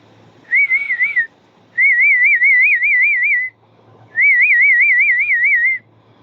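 Three warbling whistles from a person, a short one followed by two longer trilled calls, loud and close with brief gaps of near silence.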